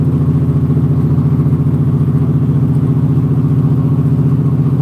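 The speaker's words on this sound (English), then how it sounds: "Oh look, a car that's in a hurry." A car engine on a road heard from inside a bouncy truck, a loud steady mid-pitched engine drone with a regular pulsing throb, continuous and close, no talking.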